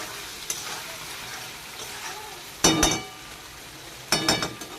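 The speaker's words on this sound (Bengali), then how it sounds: "তো বন্ধুরা, এরপরে আমি আবারও নাড়াচাড়া করে নিচ্ছি।" Shahi paneer masala sizzles steadily in a pan as a spoon stirs it, with a soft constant frying hiss and two short bursts of louder scraping and clinking against the pan, with no talk.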